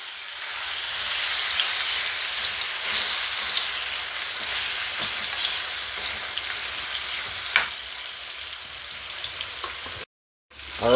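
Steady, loud sizzling of chicken pieces frying in a pan for curry, a dense crackling hiss running continuously with brief pops, then a short cut and a rise at the end.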